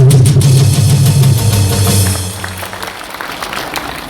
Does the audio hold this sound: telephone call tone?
no